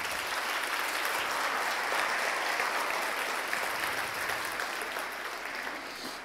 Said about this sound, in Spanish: Dale un aplauso a Cristo por eso.